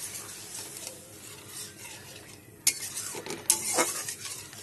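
Mustard paste fries in a pan for a Bengali rui fish dish, giving a steady close sizzle with scraping spatula strokes and a couple of sharp clinks of utensil against metal, with no voices.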